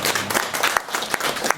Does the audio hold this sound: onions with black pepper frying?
no